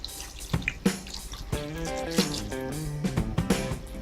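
Water splashes and pours into a cooking pot of simmering chicken for tinolang manok, uneven gurgling with dripping plops close by, moderately quiet.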